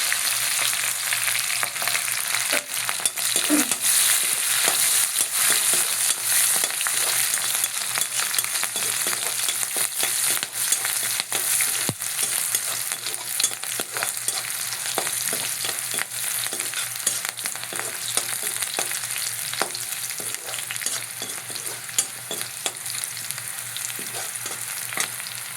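Chillies, curry leaves and onion fry in hot oil in a pan with a steady, dense sizzle and occasional stirring scrapes, close and continuous with no talking.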